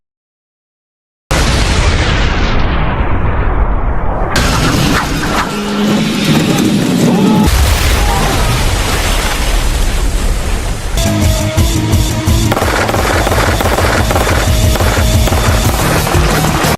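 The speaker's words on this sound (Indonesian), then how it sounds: "ia menjatuhkan sebuah peledak" An explosive detonates among zombies in a film scene, starting with a loud boom that rolls into sustained roaring blast and debris noise, followed by dense, continuous cinematic rumble and impacts.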